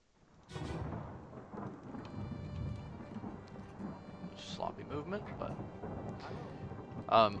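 Distant rolling thunder from a brewing storm in the video game Return of the Obra Dinn, a low rumbling swell under rain-like noise with occasional creaks and soft clicks, building and fading without a clear break.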